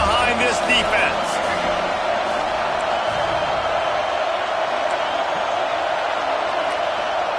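A broad, steady roar from a football stadium crowd cheering the defense on a third down, loud and continuous throughout, with a commentator's voice over it at the start.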